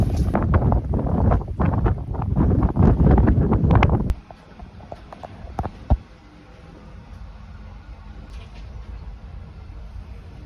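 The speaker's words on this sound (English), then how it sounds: "We had a few 40 knot gusts that came across the boat." Heavy wind buffeting roars for about four seconds in strong 40-knot gusts across an anchored boat, then drops to a steadier, quieter rush with a few sharp knocks.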